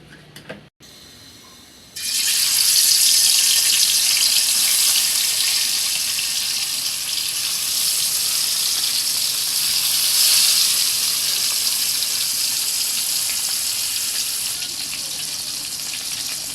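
Four turmeric-and-salt-rubbed hilsa fish pieces hit hot oil in a pan, bursting into a loud, steady crackling sizzle that holds close and strong for many seconds after a short quiet lead-in.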